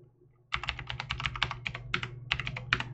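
A password is typed on a computer keyboard, a close, quick run of about a dozen crisp key clicks in uneven rhythm over a low background hum.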